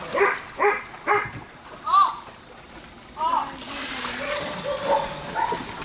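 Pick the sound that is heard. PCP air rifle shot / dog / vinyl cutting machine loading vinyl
dog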